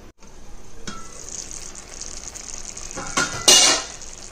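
Kadai mushroom cooking in a covered pan, giving a steady soft sizzle with brief louder bursts of frying and a clatter near the end, no voices.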